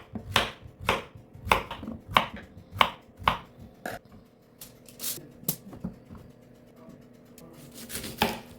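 A knife cuts zucchini into thick slices on a board, with a series of sharp, close chops in an uneven rhythm, several in quick succession and then a few spaced strikes.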